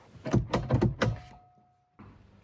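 The door of an Alfa Romeo 1750 GT Veloce, whose outside handle has malfunctioned, is worked from inside: several close mechanical clunks and rattles in quick succession, a brief pause, then a softer thud.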